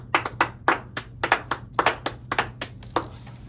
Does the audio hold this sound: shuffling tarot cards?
no